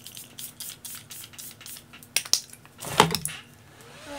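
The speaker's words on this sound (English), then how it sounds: "So I'm gonna go ahead and spray it with the Charlotte Tilbury Airbrush Flawless Setting Spray." Several quick, close hissing bursts from a Charlotte Tilbury Airbrush Flawless Setting Spray bottle, with a soft click and light rustling between them.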